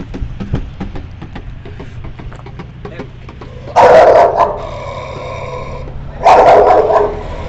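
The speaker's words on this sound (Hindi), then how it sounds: "ये पिटबुल है, कुत्तों की ब्रीड में सबसे खतरनाक जानवर" A pitbull gives two loud, close barks a few seconds apart, each followed by a short ringing tail, after a stretch of faint background noise.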